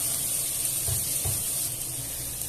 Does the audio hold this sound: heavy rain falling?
no